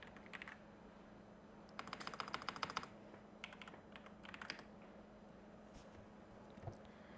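Fast, faint clicking on a computer keyboard as a word is typed into a search field, arriving in a few short bursts over a low steady hum, with no talking.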